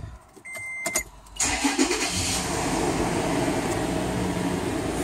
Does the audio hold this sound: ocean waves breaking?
no